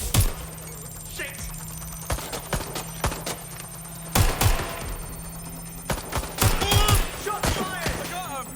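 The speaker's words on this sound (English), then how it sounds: "Shots fired!" Gunfire in the video game Watch Dogs Legion: scattered sharp shots and short bursts ring out at irregular intervals over a steady hum, some close and loud, others quicker and lighter, with voices and other game noise mixed in.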